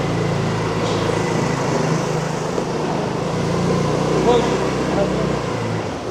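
A brand-new automatic-transmission motorcycle hums steadily as it is ridden, engine drone continuous and moderately loud, with people talking over it.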